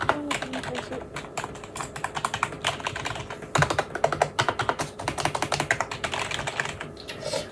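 Rapid typing on a computer keyboard with swapped keycaps on an AZERTY layout: dense bursts of sharp clicky keystrokes, close and loud, with a few brief pauses between runs.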